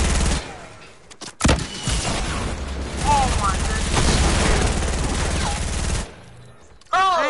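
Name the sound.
gunfire in a video game, someone shooting the floor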